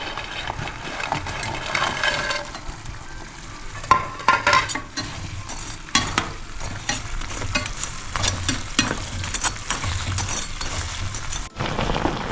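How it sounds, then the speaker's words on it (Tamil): Bread sizzling and crackling in a hot pan, a steady frying hiss with occasional stirring scrapes and clatters. "இப்போ நம்ம ஃப்ரை பண்ண ப்ரெட்டெல்லாம் இந்த பேனில் போட்டுக்கலாம்"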